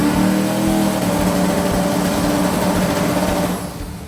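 A Chevrolet S10 pickup with a small block V8 revs steadily and loudly, a continuous engine drone held at high rpm before easing off near the end.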